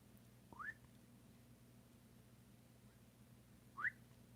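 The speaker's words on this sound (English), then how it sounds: "Rick, did you miss that whistle" Two short, faint upward whistles sound about three seconds apart over a quiet background hum.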